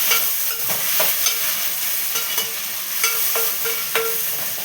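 Vegetable curry stirred and fried in a pan, a steady close sizzle with repeated scraping stirs of a spoon against the metal, no talking.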